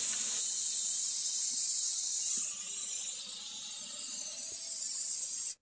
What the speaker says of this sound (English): Give it a good spray everywhere.